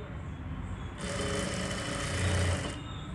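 A sewing machine stitches fabric for a patta patti pocket and kalli piece in one short, steady whirring burst that starts abruptly and cuts off just as quickly.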